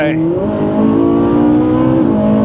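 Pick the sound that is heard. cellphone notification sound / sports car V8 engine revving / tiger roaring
sports car V8 engine revving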